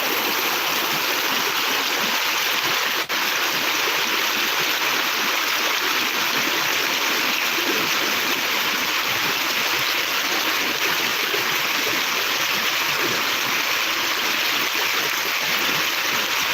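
Loud, steady floodwater rushing through a roadside drainage channel in Soppeng, Indonesia, a constant churning broadband roar with no voices.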